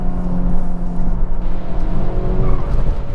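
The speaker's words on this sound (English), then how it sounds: "we're hustling through these corners and the car feels stable, very little body motion" A 2024 Acura Integra Type S cornering hard on a race track, its engine droning steadily and loudly with a faint tire whir throughout, no talking.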